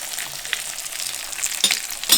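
Masala-coated fish shallow-frying in a pan, a close, even sizzle with scattered crackles and a few sharper pops near the end, no voices.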